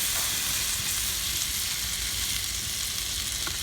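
Five tablespoons of butter melting in a pan on medium heat give off a steady, close sizzle with fine crackling that continues evenly throughout, with no voices.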